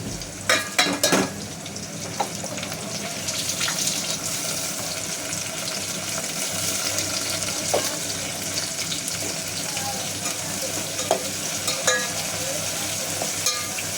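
Onion frying in a pan for prawn pulao, a steady crackling sizzle with spatula stirring and scraping, a few sharp knocks near the start, continuing evenly throughout.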